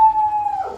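A dog lets out a short, steady howl on one sustained high note lasting under a second, close and fairly loud, then trails off into a softer whimper.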